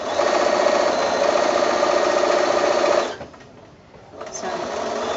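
A sewing machine stitches along a quilt border, a steady close mechanical whir that runs for about three seconds, fades and stops briefly, then starts up again.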